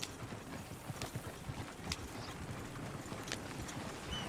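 Horse hooves clip-clop on the ground in Red Dead Redemption 2, a steady rhythmic beat of a horse walking nearby, fairly quiet, with no one talking.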